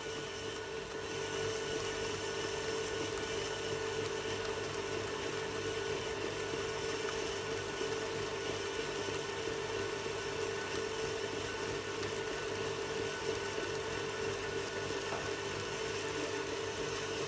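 An electric mixer beating butter, icing sugar and egg white into a creamy mix, a steady, continuous motor whir running unchanged throughout.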